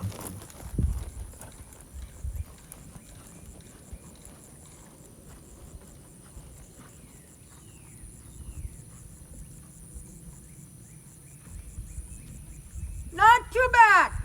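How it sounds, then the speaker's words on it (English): A horse in a dressage lesson trots in a lengthened trot, its hoofbeats thudding in a steady rhythm on the arena footing, with crickets chirping steadily in the background. "show me the trot lengthening"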